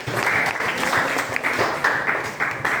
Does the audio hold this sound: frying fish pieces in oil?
no